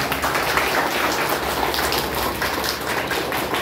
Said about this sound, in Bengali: এখন জোরে করতালি দাও আইডিবিআই ব্যাংকের জন্য